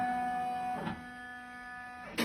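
A multi-needle embroidery machine traces the outline of a 14x14 hoop field, giving a steady motor whine with a shifting pitch, brief transitions and a short sharp mechanical clunk at the end.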